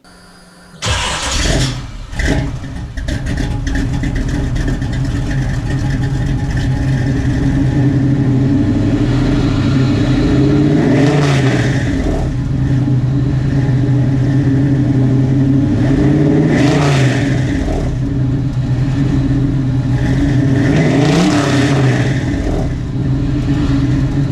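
A 1966 Chevrolet Nova with a 383 V8 cranks and fires up, sputters briefly, then settles into a loud, steady rumble with several rising revs and swells in pitch during a test drive, no voices over it.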